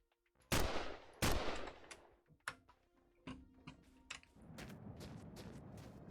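In The Long Drive video game, two sharp, loud gunshots ring out close together near the start, followed by fainter clicks and scattered small impacts over a low background hum.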